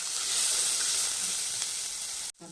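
Onion and tomato masala roasting in a pan sizzles loudly and steadily at close range, with no voices, then cuts off abruptly near the end.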